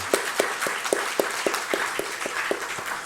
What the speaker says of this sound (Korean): 이 친구들 우리 축복하는 마음으로 박수 한번 쳤으면 좋겠습니다